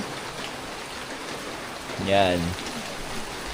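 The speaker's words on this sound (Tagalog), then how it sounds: "So, kagabi pa umuulan." Steady rain falls in a continuous, even hiss with no breaks, and a voice speaks briefly near the middle.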